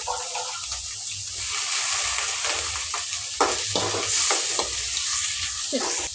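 Onions and curry leaves sizzle in hot oil in a pan while a spoon stirs them, giving steady frying hiss with repeated scraping strokes, close and fairly loud with no talk.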